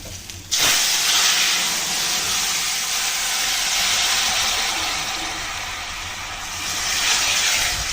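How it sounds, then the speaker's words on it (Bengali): Mung dal tipped into hot tempering oil, bursting into a loud, sudden hiss that holds as a dense, steady sizzle close by. "ফোড়ন তো ভালো করে ভেজে নিলাম, এখন দিয়ে দিচ্ছি ডাল।"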